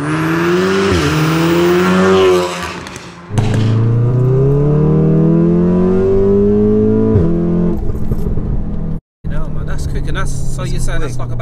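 Audi RS6 of about 560 horsepower revving hard and accelerating through gears, a loud close engine rising in pitch with sharp shift breaks and a brief cut near the end, with talk over it.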